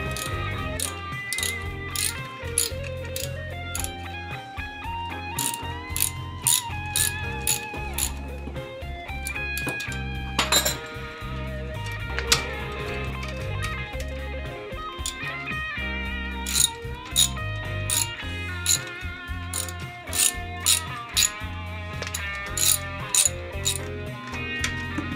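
Ratchet wrench clicking on the transmission bell housing bolts of a 1977 Cadillac rat rod during a transmission swap, with quick repeated pawl ticks in bursts over steady mechanical background noise.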